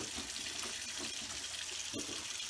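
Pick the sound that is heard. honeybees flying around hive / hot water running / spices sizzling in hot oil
hot water running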